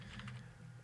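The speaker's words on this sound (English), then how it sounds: "I'm trying to type this from around my microphone stand" A few quick keystrokes on a computer keyboard, faint and close, a short cluster of clicks over low hum.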